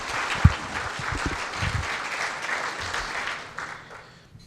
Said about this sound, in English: let's give her another round of applause for her leadership